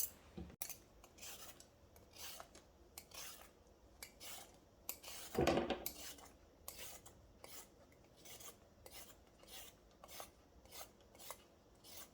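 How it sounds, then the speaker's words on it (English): Repeated rasping scrapes of a peeler stripping carrots, quick strokes in an uneven rhythm, close by with a sharper, louder stretch midway. "I'm gonna go ahead and peel them"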